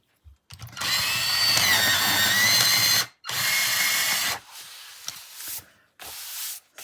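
Pablo colored pencils ground in a sharpener, a loud steady whirring grind lasting a few seconds, a brief pause, another sustained burst, then scattered lighter scraping and clicks as it stops.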